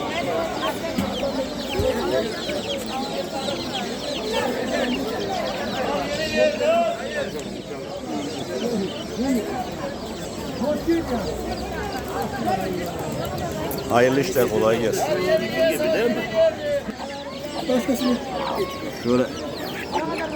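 Chickens and chicks at a busy open-air poultry market in Kırıkkale cluck steadily close by, with occasional sharper calls, under near-constant talk from people nearby.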